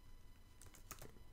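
A short flurry of light keystrokes on a computer keyboard, soft and close over a quiet hum, with a few quick taps clustered together.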